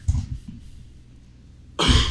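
Person coughing from smoke in the lungs: a short burst of harsh coughs at the start, a quiet pause, then a louder, rougher cough or throat clearing at the end.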